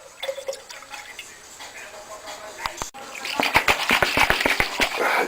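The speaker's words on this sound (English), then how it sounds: "Then you can take that liquid and pour it into another jar." Liquid poured from one jar into another, a trickling, splashing stream that grows fuller and louder partway through, heard close up with faint clinks and background noise.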